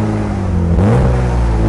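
A BMW E36 fitted with an Ironcraft aftermarket exhaust idles loudly up close, then gets a short blip of throttle, its deep exhaust note rising briefly before easing back down.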